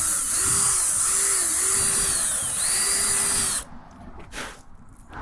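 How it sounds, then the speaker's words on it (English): A power drill bores holes through wood for carriage bolts while building wooden truck box sides, whining loudly and steadily with pitch dips as the bit bites, then cuts off and leaves quieter handling noise. "So now that we got our holes drilled"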